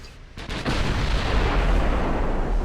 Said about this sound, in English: Not a lot of damage on that ammo detonation